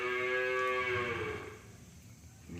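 A single cow lets out one long, loud, close moo that trails off after about a second and a half, on a farm during a festival day after rain, with no talk.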